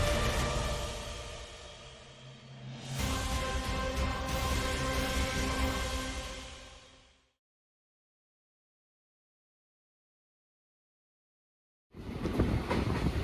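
A train rumbles loudly along the rails with a droning hum through the Nallamala forest, cuts out to silence for several seconds in a tunnel, then the rumble returns.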